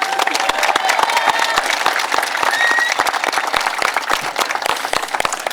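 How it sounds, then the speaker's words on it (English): A commencement ceremony crowd gives faculty another round of applause, steady, loud clapping from a large audience with scattered distinct claps standing out near the front, sustained without a pause. "how about another round of applause for them?"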